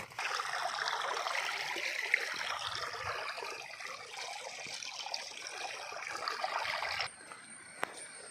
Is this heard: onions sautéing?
no